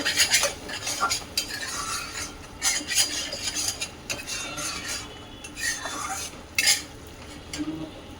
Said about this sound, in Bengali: এই যে আমি মশলাটাকে ঢাকা চাপা দিয়ে কষে নিচ্ছি